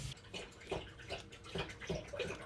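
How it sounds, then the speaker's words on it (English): A Newfoundland dog laps water from a bowl up close, a run of loud, wet splashing gulps in uneven bursts with no talking. "That's the sound of a Newfoundland drinking."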